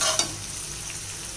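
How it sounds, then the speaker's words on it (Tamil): Chopped onions sautéing with rock salt in a pan for an egg masala, heard as a soft, close sizzle with a brief scrape of stirring near the start, all quite faint and short. "ஸோ வெங்காயம் வந்து குயிக்காக வதங்கும்."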